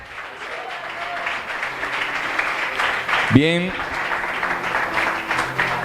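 A church congregation applauds in a steady patter of many hands, with a voice speaking over it and a brief vocal exclamation midway.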